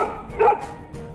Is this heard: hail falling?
no